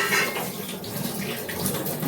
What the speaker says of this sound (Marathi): ह्याच्यात अजून पाणी टाकायचं आहे